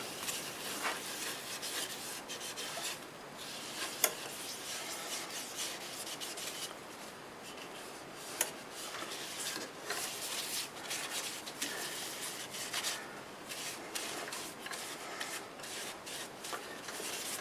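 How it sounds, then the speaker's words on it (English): Sanding sealer being rubbed by hand onto a turned live-edge wood bowl, a steady close scratchy rubbing and wiping that runs without pause, with a couple of sharper knocks along the way. "it's time to put some sanding sealer on it"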